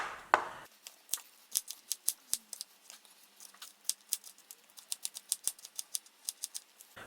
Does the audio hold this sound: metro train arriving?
no